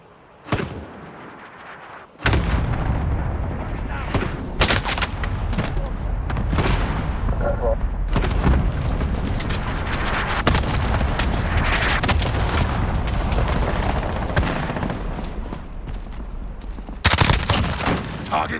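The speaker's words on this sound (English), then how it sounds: "Allied cluster strike inbound." Cluster strike explosions in Call of Duty: Modern Warfare: a loud, dense barrage of blasts and gunfire-like bursts rolls on almost continuously for about fifteen seconds after a quiet opening, with a final sharp burst near the end.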